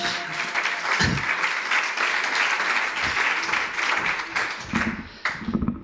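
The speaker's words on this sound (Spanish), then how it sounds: "aplauso para Rodrigo Martínez de Point9 Capital" An audience applauds speaker Rodrigo Martínez of Point9 Capital at a talk on early-stage investment, a dense, steady wash of many hands clapping that lasts throughout, with a few sharper claps near the end.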